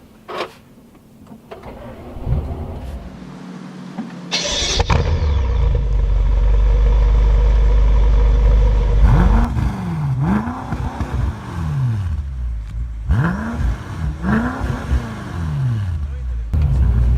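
A 2017 BMW M6 starts up with a loud engine burst, then settles into a steady idle before pulling away, revs rising and falling through several gear changes, heard from inside the car.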